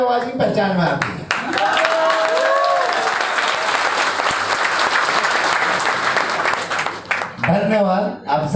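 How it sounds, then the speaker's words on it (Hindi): An audience at a live speech event in Ahmedabad breaks into loud, sustained applause lasting about six seconds, with a voice speaking just before and after the clapping. "मुझे केवल ताली वाली आवाज ही पहचान में आती है।"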